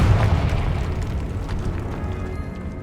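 A Confringo spell explosion in the Hogwarts Legacy video game, a loud, dense rumbling burst that rolls on as a sustained low boom with crackling debris throughout.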